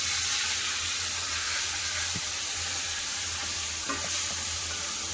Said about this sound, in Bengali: উল্টে পাল্টে লাল করে ভেজে তুলে নেবো